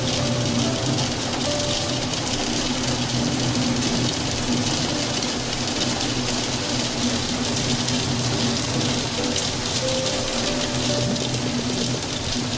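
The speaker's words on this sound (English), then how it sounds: "The rain's getting louder." Steady, dense rain pours continuously in the video game Until Then, a constant hiss and patter that fills the scene at an even, loud level without letup.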